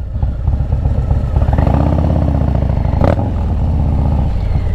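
A Harley-Davidson Street Bob 114 Softail with a stage 2 upgrade rumbles loudly and steadily while riding, its deep engine note holding constant apart from one brief sharp noise near the middle.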